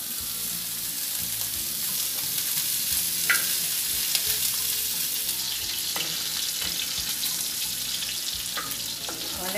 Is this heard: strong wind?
no